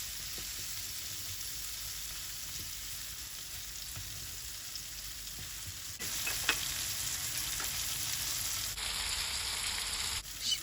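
A potato and sausage mixture fries in a pan, giving a continuous close sizzle with light stirring and scraping, briefly louder midway, and no talking.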